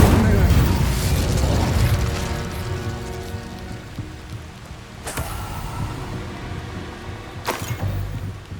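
Reductor and Incendio spell blasts in Hogwarts Legacy, a rumbling magical barrage with two sharp, loud bursts cracking out a few seconds apart over a dense, continuous background roar.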